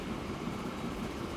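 A train running in Transport Fever, a steady low rumble of rolling wheels and engine drone, continuous and fairly quiet with no voices.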